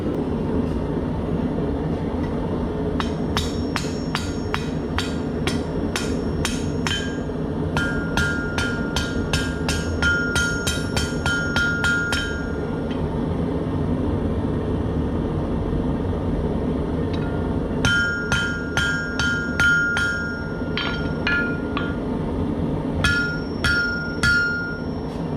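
Metal is cut with a hammer and chisel, sharp ringing hammer strikes landing in quick bursts of steady blows, pausing between series, close and loud against a low background hum.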